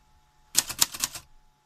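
A quick burst of about five crisp keystrokes on an Antares portable typewriter, close and clear against a quiet room.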